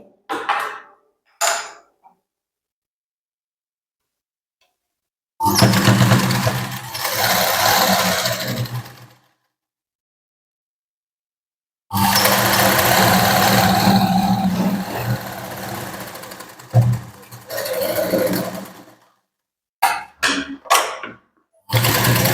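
An electric sewing machine stitches a katori blouse in several loud, rapid whirring runs, two long ones and a few short ones, separated by stretches of silence.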